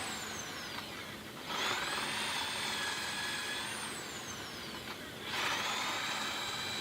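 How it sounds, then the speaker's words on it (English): A power drill whines in two long bursts, its pitch shifting as the bit bores into an aluminum plate, with a short pause between runs. "You can just drill, it's fine."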